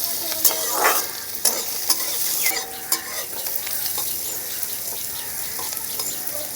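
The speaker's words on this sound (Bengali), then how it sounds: "এখন নাড়াচাড়া করে একটু ভেজে নেব।" Carrot, onion and green chilli fry in a pan, with a utensil stirring and knocking against the metal in sharp, irregular strokes above a continuous sizzle, close by.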